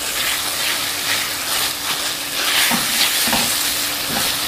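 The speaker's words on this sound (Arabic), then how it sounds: "هنزلهم ياخدوا تحميره اخيره بقى مع الشاورما" Small chopped garlic cloves fry and sizzle in a pan with chicken shawarma, a steady loud hiss broken by occasional stirring scrapes.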